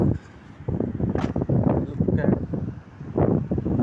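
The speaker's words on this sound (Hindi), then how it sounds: "मौसम बहुत प्यारा है, आज ठंडी ठंडी हवा" Cool wind gusting across a microphone in a Dubai park, a loud, buffeting rush that swells and eases in uneven bursts.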